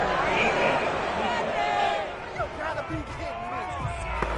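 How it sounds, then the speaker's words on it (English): A home stadium crowd boos after a penalty flag in the American football game Madden 22, Patriots vs Bills, a steady roar of crowd noise under a commentator's voice talking throughout. "Some boos coming down right now from this home crowd after that call."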